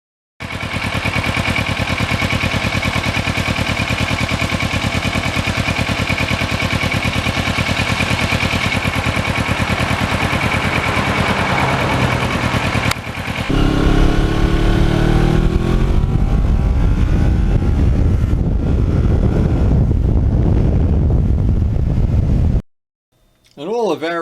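A Kawasaki Ninja motorcycle cruises along country roads past farms, its engine droning steadily under heavy wind buffeting, then the pitch shifts and rises as the rider changes speed. Someone talks over the ride throughout.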